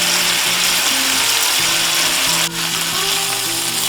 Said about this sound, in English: I'm searing the steak again